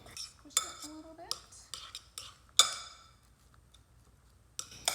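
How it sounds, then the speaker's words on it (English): Ground chicken keto pizza crust mixture is worked together with egg in a bowl, giving scattered clinks and scrapes of a utensil against the dish with sticky squishing in between, close and fairly quiet. "Now I'm just gonna mix all of this with the egg up, squish it a little bit."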